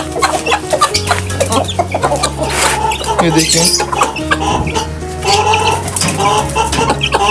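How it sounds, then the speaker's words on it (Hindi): Chickens, chicks and roosters cluck busily and loudly at close range while feeding on scattered rice, with overlapping calls throughout and a brief word spoken over them. "मुर्गियां कैसे शौक से खा रहे हैं चावल।"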